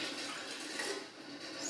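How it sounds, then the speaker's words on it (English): Roasted salsa verde, a thin pure-liquid sauce, pours into canning jars with a steady close-up splashing trickle that runs continuously throughout. "now we're ready to fill the jars"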